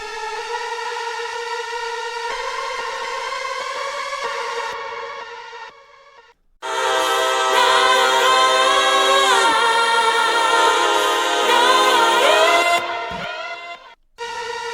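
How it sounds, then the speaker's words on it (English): A sustained synth-like lead line doubles the vocal melody in a song's last chorus, played alone and loud as long gliding, bending notes in two phrases separated by a short pause. "this lead comes in at the last chorus, and it's doubling the vocal in a very cool way"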